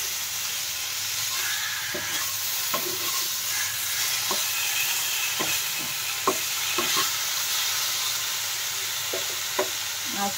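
Vegetables with salt and turmeric being stirred in a sizzling pan, a low steady fry under repeated light scrapes and taps of the spoon spread across the clip.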